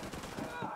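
Gunfire in The Division 2, a dense burst of shots crackling through a noisy firefight mix, loud and close for under a second.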